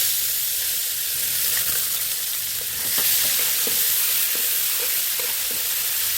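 Garlic frying in hot oil in a pan: a loud, steady sizzle up close with a few light clicks and scrapes from stirring, no voices.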